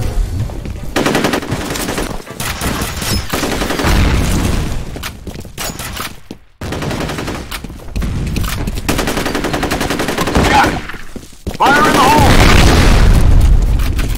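In the video game F.E.A.R. Combat, heavy gunfire and booming grenade explosions fill the whole stretch, loud and dense, with a deep blast near the end and brief voice callouts mixed in.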